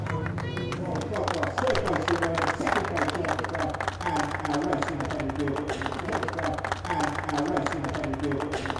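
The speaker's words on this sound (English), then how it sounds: "a very well deserved round of applause to the drivers on the podium" Crowd applauding the drivers on the podium after a MINI Challenge motor race, with a dense, steady patter of clapping that runs throughout beneath ongoing talk.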